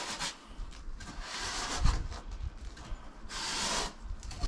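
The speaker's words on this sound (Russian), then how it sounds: "эту сторону мы поцарапаем там либо железной щеткой, либо также пилой, чтобы адгезия штукатурки к пеноплексу была лучше" A wire brush or saw scrapes across Penoplex foam board in rough, rasping strokes, close and fairly quiet, with a few louder swipes and a dull knock partway through, no voices.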